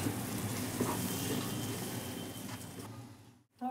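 Mango pulp and mango pieces cooking into semolina sheera in a pan, giving a steady, dense low sizzle and bubbling that runs without talk before cutting off abruptly near the end.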